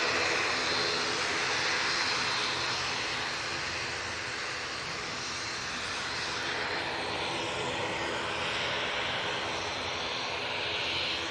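A Loganair propeller airliner in Isle of Man livery, bound for the Isle of Man, fills the air at Manchester Airport with a loud, continuous engine roar that swells slightly and holds steady close by.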